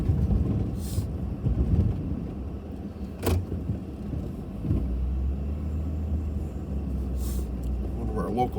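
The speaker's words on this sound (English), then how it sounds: "Our local highway department trucks coming by." Local highway department snowplow trucks rumble past during a late-February blizzard, a steady low engine drone that swells around midway and holds near, heard over wind buffeting the microphone.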